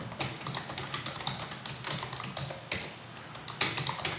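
Fingers tap out a steady run of keystrokes on a computer keyboard, holding Alt while entering a four-digit code, with crisp, close clicks and a few louder presses and no talking.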